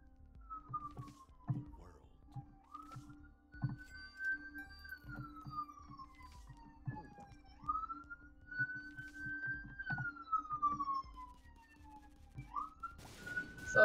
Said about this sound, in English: Sorry, that's a bloody siren.